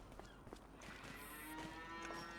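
Cattle mooing inside a cow barn in a dairy farming video game, with several overlapping low moos and a steady barn hum and chatter of livestock throughout, moderately quiet.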